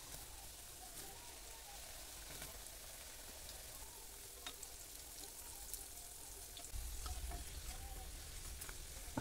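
Cornflour-coated potato french fries frying in a pan, a continuous fizzing sizzle with scattered crackles and pops that swells slightly louder toward the end.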